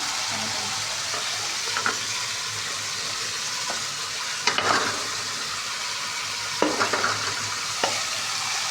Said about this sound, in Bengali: মাছের মাথা আর মাছের লেজ আমি রেখেছিলাম, সেগুলো প্রায় কষায় রেখেছিলাম আলাদা, এখন ঢেলে দেবো।